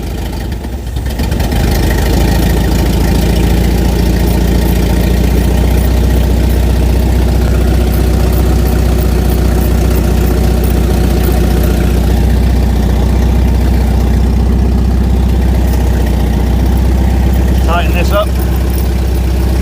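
A scrapyard Volvo 740 engine running steadily after starting, a loud continuous idle with a low droning hum, with someone speaking briefly over it.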